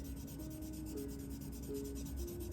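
A drawing tool rubs and smudges broad lines on paper, heard as a soft, continuous scratchy rubbing with a faint rhythmic pulse, close and fairly quiet, with no talking.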